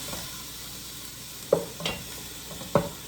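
Ground meat and onion sizzle steadily in a pan, with a few distinct spatula scrapes and stirring strokes cutting through the close, continuous frying hiss.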